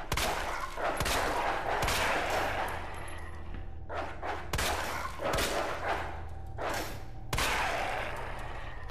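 Gunshots in a survival-horror video game: a series of sharp, loud shots spaced a second or so apart, each with a ringing tail, close and dominating with no talk over them.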